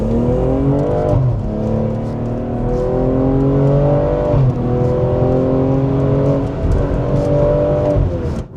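BMW M340i with a stock exhaust revving under load while driving: a loud, continuous engine note that climbs through the gears and dips at each shift, heard close and alone without speech.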